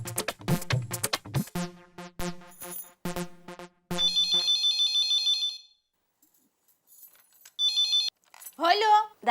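A phone ringtone plays in two bursts, a long electronic trill followed by a shorter one, after a stretch of talking and some clatter at the start.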